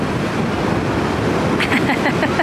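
Sea waves washing onto a shore in Denmark, a continuous broad roar of surf with wind buffeting the microphone and faint splashes near the end.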